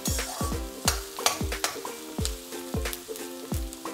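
Onions and spices fry for tempering a Tamil chicken curry (kozhi kuzhambu), with a steady sizzle throughout and repeated sharp scraping clinks of a stirring spoon against the pan, loud and close, with no talk.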